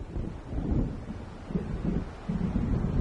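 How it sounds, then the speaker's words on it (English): A storm approaches in the video game Alan Wake, with thunder rolling in low, moderate swells amid wind and rain, several rumbling surges rising and falling. "It seems there's a storm coming."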